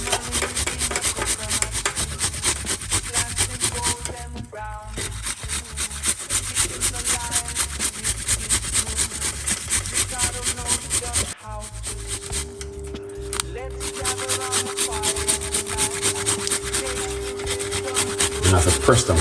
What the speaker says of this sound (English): It's gonna grate a little piece of ginger.